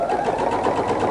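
A sewing machine runs close up at a steady, rapid clatter, stitching a line through quilted velvet fabric in one brief continuous burst.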